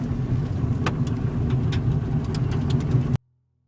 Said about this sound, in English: we're going to keep on driving down the road, down into Huntersville